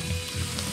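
Pork sizzles on a Thai moo kratha grill with a dense, crackling hiss of frying fat, close and continuous through a brief moment.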